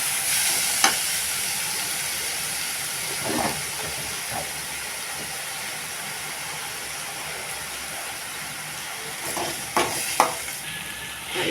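Chopped tomatoes sautéing in a pan while cooking Guntur chicken, giving a continuous steady sizzle with a few occasional clinks and stirring scrapes, close and fairly loud.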